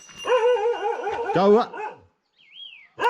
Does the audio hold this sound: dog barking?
yes